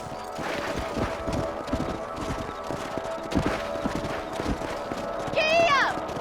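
Horse hooves clip-clop in a quick steady rhythm while riding in the video game Red Dead Redemption, with a character speaking over them and a brief whinny near the end.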